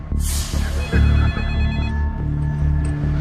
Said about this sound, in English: a call comes into the convenience store